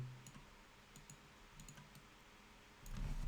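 A computer mouse gives a few faint, sharp clicks, including a quick double-click, close up in a quiet room, with a soft low thump at the end and no speech.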